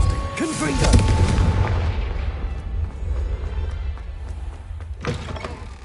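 In Hogwarts Legacy, the Confringo blasting spell erupts in deep booming bursts, one strong blast early and another near the end, mixed with game voices and a low rumbling background.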